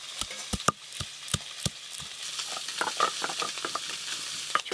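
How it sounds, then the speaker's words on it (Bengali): Small fish fry in hot oil with a steady, soft sizzle, punctuated by sharp clicks and taps of stirring against the pan, close up and without talk. "ছোট মাছ তো খুব বেশি সময় লাগে না ভাজতে।"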